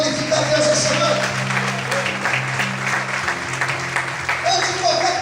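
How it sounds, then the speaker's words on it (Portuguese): Congregation applauding in church: continuous clapping from a crowd over a sustained organ or keyboard chord, with a few brief voices rising through it. "Quantos podem aplaudir o Senhor e glorificar a Deus essa noite?"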